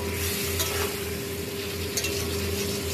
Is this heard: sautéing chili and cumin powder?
yes